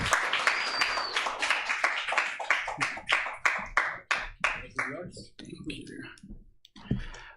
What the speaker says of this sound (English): let's give a round of applause to Nikolai Garcia